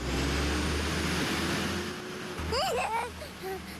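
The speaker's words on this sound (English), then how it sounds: "the revving of the trash truck engine coming down his street" A trash truck engine rumbles low and steady as the truck comes down a residential street, with a brief burst of higher mechanical whine or brake squeal near the end over the ongoing drone.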